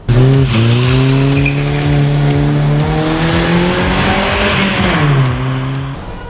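A carbureted Toyota AE86 engine revs hard through its exhaust system, a loud, close, sustained tone that climbs, holds, then drops and rises again with no talking.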